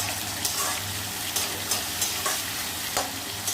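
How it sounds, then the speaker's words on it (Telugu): Two cups of onion frying in hot oil with whole spices in a kadai, a loud steady sizzle close up with a few scraping stirs spaced through it. "కొంచెం హీట్ ఎక్కాక అందులో బౌల్డ్ అంటే 2 కప్పులు ఆనియన్ వేసుకున్నాను"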